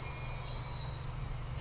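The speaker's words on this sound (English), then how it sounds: "Is that the train that runs on TG03?" A train in the Transport Fever video game runs steadily with a low rumble and a thin, sustained high-pitched wheel squeal above it, moderately quiet and continuous, with no talking.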